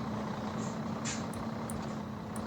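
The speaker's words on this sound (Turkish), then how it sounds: "Güzel böyle trailer sesleri eşliğinde." A truck and trailer in the game Truckers of Europe 3 rumble with a steady engine hum under broadband noise, with faint brief chirps and a hiss on top, no talking.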